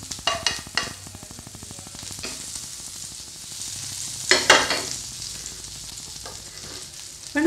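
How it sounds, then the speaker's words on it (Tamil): Butter sizzles steadily in a hot pan, a close, continuous frying hiss with a few louder crackling bursts and occasional utensil clicks. "இப்போ நான் கொஞ்சம் வெண்ணெய் சேர்த்துக்கிறேன்."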